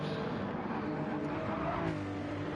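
A Ferrari F40 race car in Gran Turismo 7 roars at speed during an online league race. The engine drone is steady and loud and fills the whole brief stretch with no pauses.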